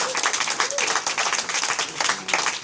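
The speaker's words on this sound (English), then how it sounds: "so I think that deserves a round of applause." Applause at a student protest meeting against student loan changes, a dense crowd clapping steadily and fairly close, with scattered voices and cheers mixed in throughout.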